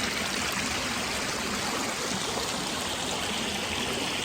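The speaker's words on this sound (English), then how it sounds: "I'm coming up on my first tumbling water" Water tumbles and rushes steadily over rocks in a nearby stream on the Tumbling Waters Trail, Delaware Water Gap, a continuous broad splashing roar with no voices.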